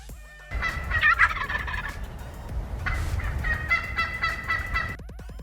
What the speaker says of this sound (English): This big bird is a turkey.